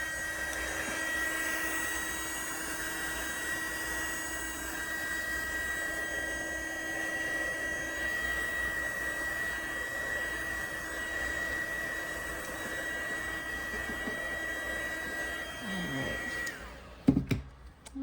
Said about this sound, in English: Just trying to move some of this back into the mold and heat gun again.